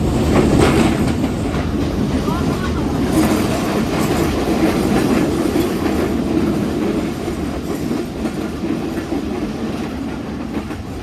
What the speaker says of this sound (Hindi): दोस्तों तो ट्रेन हमारी अल्लाह हिंदुस्तान रेलवे स्टेशन की लूप लाइन से गुजर रही है